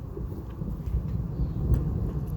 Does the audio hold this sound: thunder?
yes